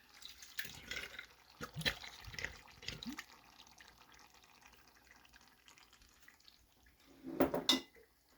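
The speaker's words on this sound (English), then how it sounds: "I am adding 1 quart of regular stewed tomatoes." Home-canned stewed tomatoes pour from a quart jar into a pot in a kitchen: wet sloshing and glugging with soft clinks, quieter in the middle, ending with a louder splash and clatter.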